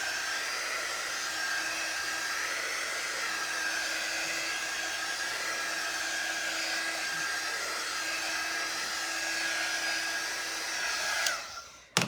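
A hair dryer blows a steady, even whoosh over a craft transfer, running alone for about eleven seconds before it clicks off abruptly.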